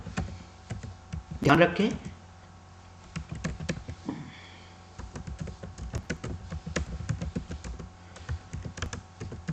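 Keys clatter on a computer keyboard in quick irregular bursts of light taps, close to the microphone, with someone speaking briefly between the typing.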